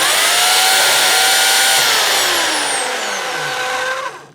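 Oregon CS1500 electric chainsaw running with its built-in sharpener engaged: a loud, steady motor whine that stays close and level for several seconds, its pitch sliding slightly, then winds down at the end.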